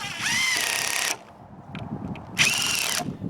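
A power drill drives a 1 1/4 inch screw through a conduit clamp into the joint between two 2x4s while building a greenhouse, two whining bursts of about a second each separated by a short pause with faint clatter.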